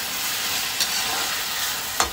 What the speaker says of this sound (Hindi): देखिए नीचे भी नहीं लग रही सब्जी और अच्छे से भून रही है।